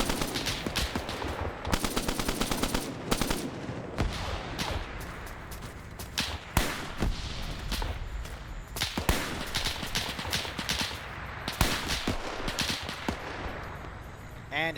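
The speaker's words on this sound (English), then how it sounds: "They're taking more fire." Gunfire crackles through a WW2 video game match, with repeated bursts of rapid automatic shots and single sharp cracks at varying distances, some loud and close, others thinner, continuing across the whole stretch.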